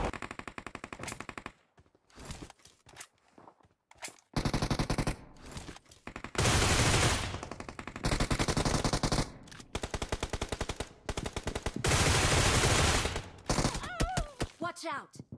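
Video game gunfire in a shooter's wow mode: loud bursts of rapid automatic fire come in several separate volleys with short quiet gaps between them, and brief voice fragments appear near the quieter stretches.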